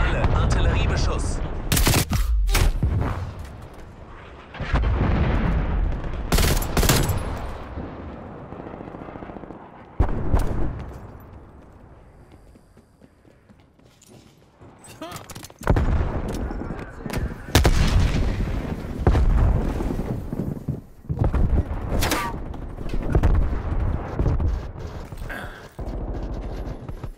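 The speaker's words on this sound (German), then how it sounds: "An alle Artilleriebeschuss." Artillery bombardment in Call of Duty: Cold War, loud repeated booming blasts and bursts of gunfire in clustered volleys, easing into a quieter lull before heavy explosions resume.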